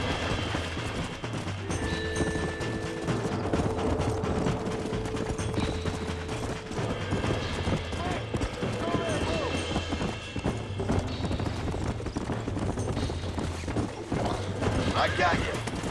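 Horse hooves galloping in Red Dead Redemption, a rapid rhythmic clatter running through most of the stretch, mixed with in-game sounds and voices talking over it.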